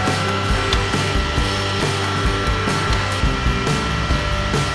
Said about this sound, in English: So there goes the print heads.